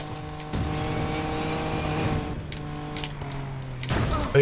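An Aston Martin DB5 with a 4-litre engine drives along an open road, its engine droning steadily with a deep hum and tonal whine, rising in a few sharp surges close by.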